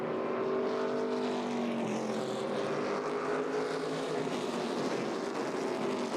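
ARCA Menards Series West race cars at Tucson Speedway, engines droning with a rising and falling whine as the pack passes, steady and moderately distant throughout, with no talk.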